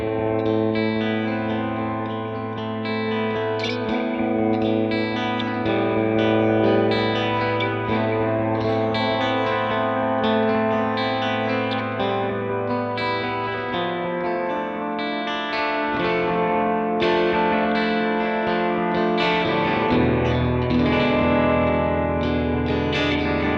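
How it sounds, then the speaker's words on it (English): Electric guitar played through a Bucket Brigade delay on a Sonicake Matribox II modeler, sustained chords and notes ringing with echo repeats and a slightly distorted, chorused tone, steady and loud throughout with no talking. "I have the Bucket Brigade delay selected"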